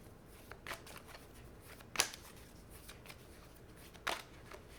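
Tarot cards are shuffled quietly, with a few sharp riffle snaps standing out against soft rustling.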